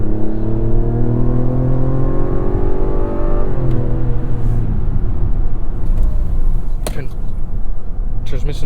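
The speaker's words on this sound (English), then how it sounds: "The powertrain in general sounds a little lazy, which is what I expected, because Mazda turbo motors aren't screamers." A 2024 Mazda CX-90 turbo accelerating hard to pass: a loud engine drone climbs steadily in pitch over a heavy road rumble, dipping briefly at a shift before rising again.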